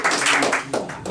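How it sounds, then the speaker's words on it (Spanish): Applause from an audience at a book presentation in Berlin, a short burst of dense clapping that fills the room, swelling briefly and then easing off. "Y un aplauso para..."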